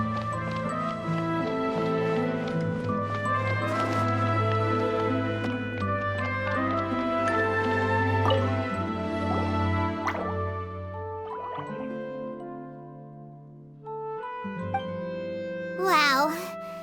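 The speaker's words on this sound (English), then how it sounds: "it sounds like a water droplet is on the second floor" A water droplet drips in Genshin Impact, soft repeated drips under a steady tonal music bed, with a brief chirpy flourish near the end.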